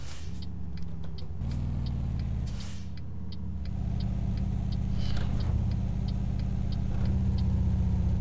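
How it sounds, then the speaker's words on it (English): ZIL truck engine braking in Euro Truck Simulator 2, a steady low droning rumble with a faint repeating tick, close and continuous for the whole stretch without speech. "The engine brake doesn't sound particularly good"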